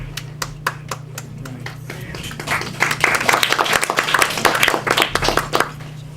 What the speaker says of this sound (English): That's nice to hear applause.